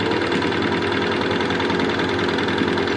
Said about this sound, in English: And it is sewing so beautifully